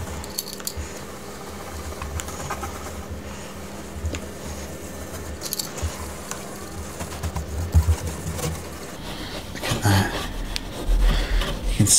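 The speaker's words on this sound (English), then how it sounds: "I'm just going to use some buffing cloth" A buffing cloth rubs French polish onto rosewood furniture in a continuous soft scrubbing, with louder strokes near the end and faint bird calls in the background.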